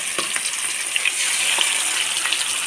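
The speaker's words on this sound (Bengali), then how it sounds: "আমি আজকে সর্ষের তেলে মাছ ভাজবো।" Fish frying in mustard oil gives a steady, close sizzle and crackle, with a few faint knocks and no voices.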